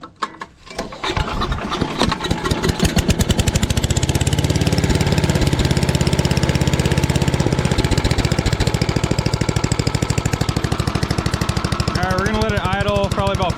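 Craftsman 8.5 hp wood chipper engine starting and settling into a steady, loud idle as it warms up, a continuous rapid chugging throughout with a brief whine near the end.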